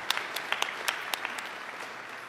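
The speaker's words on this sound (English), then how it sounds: "Give them another round of applause, please." Applause from a conference audience at an application-security talk, a light smattering of scattered claps that peaks early and thins out over a couple of seconds, fairly faint.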